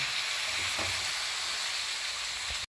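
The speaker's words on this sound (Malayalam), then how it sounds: "ഗ്രീൻ പീസ് ചേർത്തതിന് ശേഷം നന്നായി മസാലകളിൽ പിടിക്കത്തക്ക വിധം നന്നായി ഇളക്കി ചേർക്കേണ്ടതാണ്" Cooked green peas being stirred into a sizzling egg masala in a pan, a continuous close frying hiss with a few soft scraping stirs, then abruptly cut off near the end.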